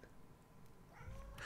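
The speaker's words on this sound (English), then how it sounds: "I don't know if you can hear that, but that's the cat." A cat meows indoors during a livestream, a brief rising call near the end that sits over a low background hum.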